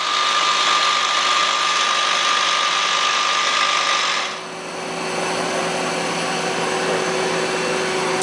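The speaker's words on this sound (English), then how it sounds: "We're going to run the live tool." A Citizen L32VII CNC Swiss lathe runs its live tool at 3000 RPM, giving a steady, loud mechanical whine with a hissing wash throughout and a brief dip and shift in tone about halfway through.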